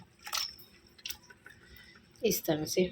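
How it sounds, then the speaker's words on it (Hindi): Soaked apricots and water go into a pan with soft squishy splashes and drips in short bursts, while a voice talks in between. "इस पैन में हमने खुबानियाँ और पानी ऐड कर देना है"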